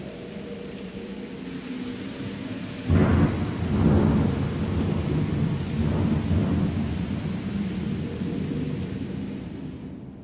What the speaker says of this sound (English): The downpour is a blessing, a sign that all is finally well.